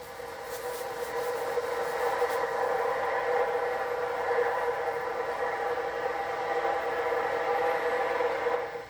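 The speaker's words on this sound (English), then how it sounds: "we catch a westbound freight with F units working up the grade" A westbound Pennsylvania Railroad freight, led by three F unit diesels with helpers behind the caboose, labours up a grade, a steady droning engine roar with a grinding, rasping texture that holds at a moderate distance throughout.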